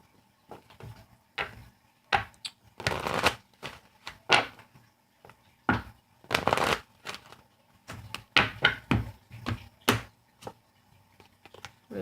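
Romance Angels oracle cards being shuffled by hand, irregular bursts of riffling and soft slaps close up, quiet between bursts, with no talk.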